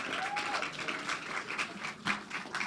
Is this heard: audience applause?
yes